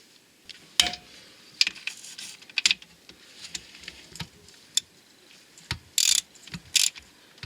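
A ratchet wrench tightening gearbox and starter mounting bolts during a clutch refit, heard as close bursts of rapid clicking separated by pauses and a few metallic knocks.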